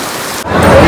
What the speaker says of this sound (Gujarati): બાકી વરસાદ તો ફૂલ જ પડે એમ અતિશય વરસાદ પડે